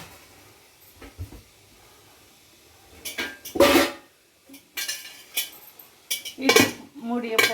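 Metal clanks and clatter as an oiled idli plate holding ragi batter is set in a kadai with water and a ring, then a lid is placed on, several sharp close knocks between quieter pauses.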